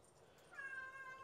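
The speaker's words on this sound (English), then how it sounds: "Hey, that's my cat saying good morning." A house cat gives one faint, rising meow partway through, a thin tonal call over low room noise with no talking.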